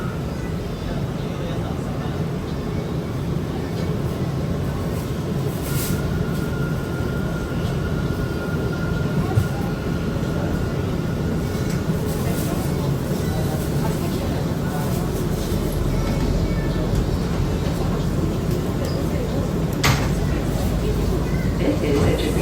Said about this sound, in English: This is a Jamaica 179th Street bound F Express train.